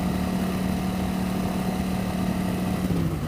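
A 1988 Yamaha XV1100 Virago V-twin motorcycle engine pulls hard under steady acceleration. Its low, continuous drone sits close and loud and rises slightly in pitch toward the end. There is no talk.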